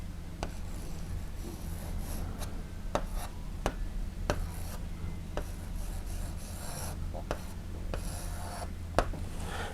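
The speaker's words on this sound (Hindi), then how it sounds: "तो हिंदुस्तान लिखते हैं।" A pen or chalk writes the word Hindustan in Urdu script, scratching and rubbing close up, with repeated sharp taps and strokes at an uneven pace over a steady low hum.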